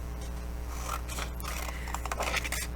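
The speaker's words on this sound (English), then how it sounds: "So we're actually going to cut out two of these." Scissors cutting out a sewing pattern piece for a corset, a run of close crisp snips and paper rustles over a low steady hum, no talk.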